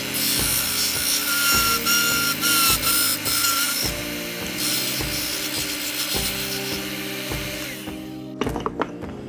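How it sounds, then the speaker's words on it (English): A belt sander grinds along the edge of a wooden Christmas tree cutout, a steady loud abrasive rasp with rhythmic surges as the piece is pushed and lifted, ending in a few short scrapes. "We'll take it over to our belt sander and sand right up to our line."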